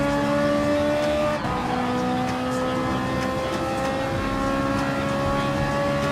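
Ferrari 458 Italia GT3 race car engines in the Gran Turismo Sport video game, a loud sustained high-revving roar with a brief gear-change dip and steady climbing pitch, close and continuous with faint voices underneath.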